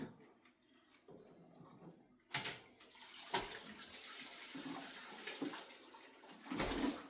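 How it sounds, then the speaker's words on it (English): Salmon and its liquid pour from a container into a big pot for homemade dog food. Splashing comes in several separate gushes that swell and fade, close by and fairly quiet, with no talking. "Now I'm going to do the hard thing and pour all the salmon into the big pot."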